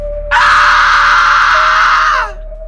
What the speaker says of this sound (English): It was a woman's scream, an old woman shrieking from inside the very room.